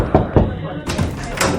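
In a radio drama, a door is knocked twice in quick succession with hollow thuds, followed by a rustling, breathy movement sound, close and fairly loud.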